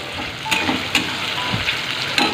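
Onions frying in oil with chicken in a pan, a moderate steady sizzle broken by a few sharp pops and stirring clicks, no speech.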